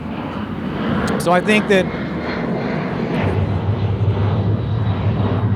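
A jet aircraft flies overhead at an outdoor rock festival, its steady broad roar holding throughout beneath a close conversation between people talking.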